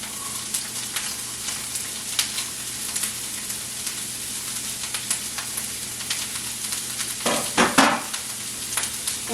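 Green peppers and onions sauté in a pan, a constant close sizzle broken by stirring scrapes and a louder burst of clatter toward the end, without any speech.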